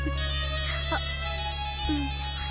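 A phone ringtone for an incoming call from a friend plays as a steady, repeating electronic melody, with a low constant hum beneath it and a brief voice-like sound in the background.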